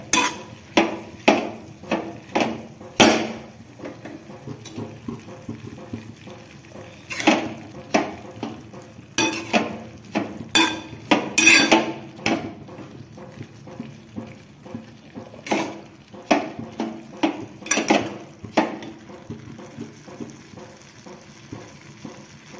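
Coarsely ground masala is sautéed in a pan for walachi bhaji, with a spatula repeatedly scraping and knocking against the metal in an uneven rhythm of clinks over a low sizzle.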